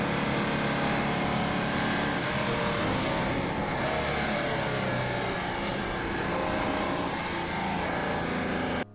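Cars lap the Mettet racing circuit (Circuit Jules Tacheny) in Belgium, a continuous engine drone and road roar that stays steady and fairly loud for the whole stretch, with no speech.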